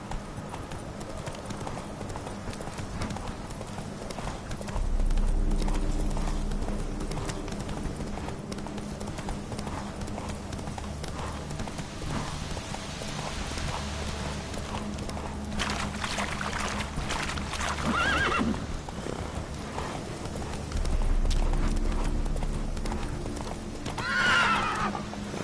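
Roach, the horse in a PS4 video game, gallops with steady rhythmic hoofbeats that swell and fade through the stretch, joined by whinnies and a snort, all loud and close with no talking over them.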